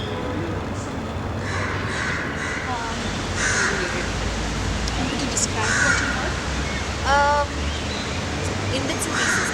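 Crows caw several times over a dense, noisy city soundscape in Delhi, with traffic rumble and distant voices underneath.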